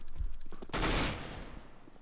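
A burst of automatic gunfire sprays from a rifle in CS:GO on the Dust map, one loud dense volley that swells suddenly and then tails off into a fading echo.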